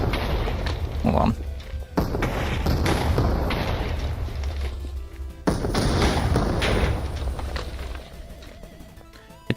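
A cannon fires cannonballs that slam into a cobblestone wall, giving heavy booming blasts and crashing impacts in a couple of loud bursts, with a voice speaking briefly over them.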